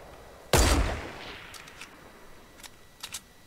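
Gunfire in the video game Fortnite: one loud, close shot or burst at the start with a decaying tail, followed by a few fainter, distant cracks.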